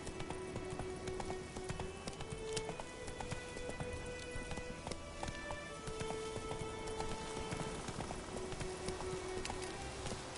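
Roach, a horse in The Witcher video game, gallops with a steady run of hoof clops at moderate distance, holding a rhythmic pace over a soft, rain-like ambient wash throughout.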